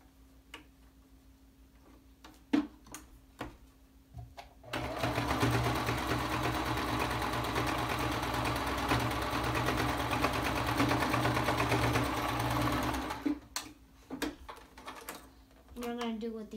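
A sewing machine runs steadily for about eight seconds, stitching a homemade fabric face mask, with a few clicks and handling taps before and after the continuous whir.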